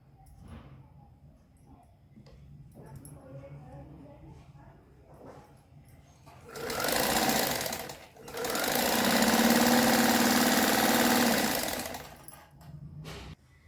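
A sewing machine stitches along one side of a piece of fabric cut for full-length pants. It runs in two loud, steady bursts, a short one and then a longer one. Quiet handling noises and faint background sounds come before and after.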